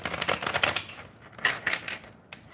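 Tarot cards being shuffled by hand, a quick run of crisp riffling and slapping bursts, close and moderately quiet, with brief pauses between shuffles.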